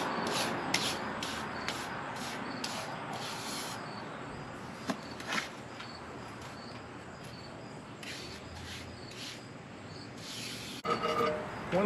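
A trowel scrapes and rubs wet mortar level into a bed about an inch thick for masonry stones, a continuous gritty rasping with a few sharper scrapes, close and alone without talk.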